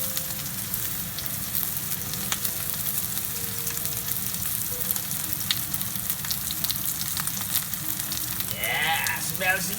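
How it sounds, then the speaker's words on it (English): Steak seasoned with salt, pepper, paprika and garlic powder sears in a pan over full heat, giving a steady, loud, close sizzle that runs throughout with small crackles, and a brief voice-like sound near the end. "This is the searing portion."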